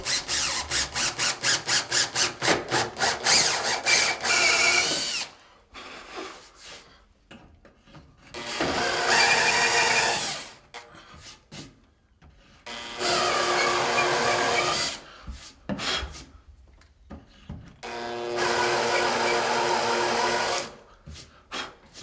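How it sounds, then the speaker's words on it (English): An electric drill with a countersink bit bores at a steep angle into wooden countertop framing to recess a screw head. After a fast rattling start, the drill whirs in four loud bursts of about three seconds each, separated by short pauses. "So set your bit back about an inch, get it started, and you want to kind of go in a pretty serious angle."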